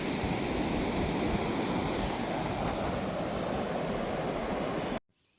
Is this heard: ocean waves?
yes